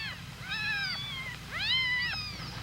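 A mother cat gives two drawn-out meows, one after the other, close and clear over a low steady background hum.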